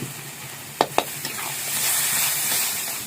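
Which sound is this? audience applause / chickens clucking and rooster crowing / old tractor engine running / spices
spices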